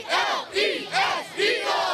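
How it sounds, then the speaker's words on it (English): Large crowd at a football stadium event chanting in loud, rhythmic swells, four surging shouts in two seconds with no clear talk over them. "the event continues to get bigger and bigger every year, and the chants louder and louder."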